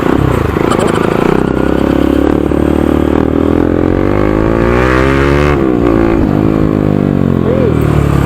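A motorcycle with an open exhaust and no silencer revs loudly up close, its harsh engine roar climbing and falling in pitch through repeated throttle blips, with a voice briefly heard under the noise.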